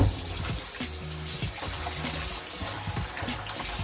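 Tap water runs continuously into a sink while chicken is rinsed, a moderate splashing stream with some low clunks of handling underneath.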